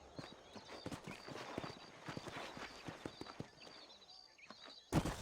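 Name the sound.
horse hooves clip-clopping, from the video game Red Dead Redemption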